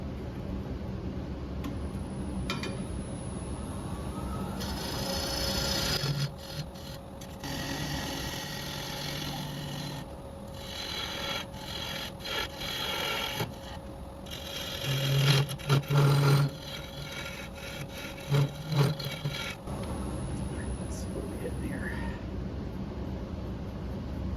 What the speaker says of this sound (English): So I'm going to take super light shearing cut there.